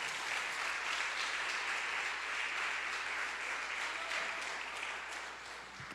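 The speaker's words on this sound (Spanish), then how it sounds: "Dale un aplauso, Señor, y póngase de pie" A church congregation gives sustained applause after a sermon, an even, moderately distant wash of many hands clapping that tapers slightly at the end.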